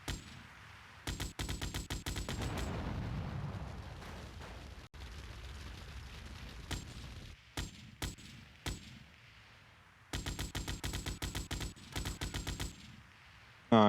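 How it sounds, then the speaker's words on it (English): A heavy automatic weapon in Grand Theft Auto: Vice City – The Definitive Edition fires in several long, rapid bursts separated by short pauses, loud and close, with no talking. "this is where we get to use a bit of the big gun that we picked up"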